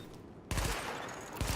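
Rapid gunfire at highlighted targets during a weapon test in the video game The Division, a dense burst of automatic shots that starts abruptly and runs continuously, moderately loud.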